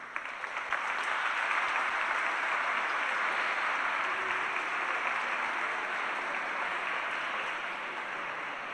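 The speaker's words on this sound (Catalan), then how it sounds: "Ahí está el aplaudiment per part de tot el públic congregat ací a esta església de Sant Josep Raval" A congregation applauds inside the Sant Josep church in Raval after a baptism Mass, with dense, steady clapping filling the room throughout and tapering slightly near the end.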